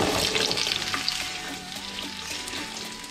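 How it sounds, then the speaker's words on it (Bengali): Potatoes for posto fry in hot oil in a wok, a close, steady sizzle with a brief stirring scrape near the start, easing a little as it goes on. "পোস্তর আলুটা ভাজব।"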